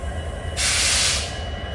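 The Goa Express train rumbles low and steadily on its way toward Dudhsagar, and partway through a loud, close burst of hissing rises over it and then fades.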